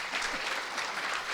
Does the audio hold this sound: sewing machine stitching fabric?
no